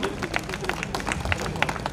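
Audience clapping to welcome a contestant onto the stage at a women's competition event, a dense burst of applause with crowd noise and voices mixed in.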